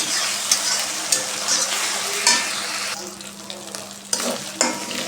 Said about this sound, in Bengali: আদা রসুনটাকে একটু ভেজে নেব।